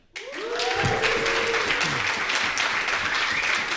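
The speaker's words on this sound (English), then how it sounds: "That's like 3 rounds of applause before we even started" An audience bursts into sustained applause that swells quickly and holds steady, with a brief voice or whoop rising at the start.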